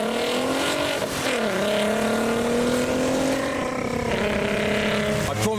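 A modified Volkswagen Golf R32 pulls away from a car show in heavy rain, its engine droning loud and close with a rising, wavering tone, briefly revving, while a voice talks over it.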